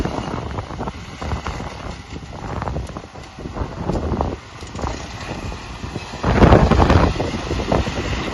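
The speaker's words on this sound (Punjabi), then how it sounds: "ਹਵਾ ਬਹੁਤ ਚੱਲਦੀ ਅੱਜ" Strong wind blows outdoors on a farm, roaring and buffeting across the microphone in uneven gusts that swell louder toward the end, with no voices heard.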